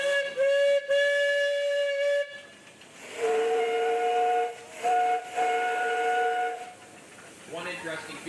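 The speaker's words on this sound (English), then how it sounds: "Any whistles up there, Danny?" A steam traction engine whistle at a steam show blows in long sustained blasts with a hissing edge, one tone then a different pitch, followed by a voice speaking at the end.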